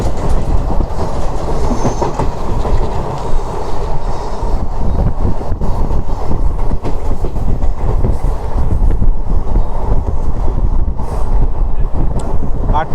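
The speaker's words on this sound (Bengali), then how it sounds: "এই যে ভালো স্পিডে যাচ্ছে ট্রেন" The Puducherry Express rolls at speed from Puducherry toward Chennai. Its loud, continuous rumble carries rhythmic wheel clatter on the rails, with wind buffeting the microphone throughout.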